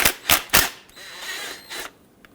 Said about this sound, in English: remove the banjo bolt